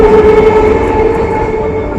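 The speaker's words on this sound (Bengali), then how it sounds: "এই দেখো অঙ্কন, দেখো এখন দাঁড়িয়ে দাঁড়িয়ে ট্রেন দেখছে।" A train passes close by, giving a loud, continuous rumble with a steady droning tone throughout.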